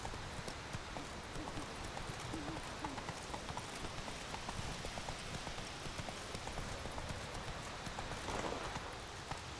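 Roach, Geralt's horse in The Witcher 3: Wild Hunt, gallops on a mountain path, hooves clip-clopping in a steady fast rhythm throughout, fairly loud and close with a dense noisy background.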